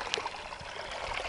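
Water mixed with fresh cow dung pours and gurgles steadily into an azolla cultivation bed, a soft, close trickling splash lasting just over a second.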